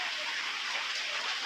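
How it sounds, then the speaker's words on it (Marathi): Heavy rain falls steadily in Ratnagiri during the Diwali season, a continuous faint hiss of drops without breaks. "दिवाळीला इतका पाऊस लागला नव्हता जितका यंदा लागतोय"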